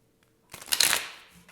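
Tarot cards get a single brisk shuffle, a short burst of papery riffling and slaps that rises then fades, followed by a soft tap, close and quiet.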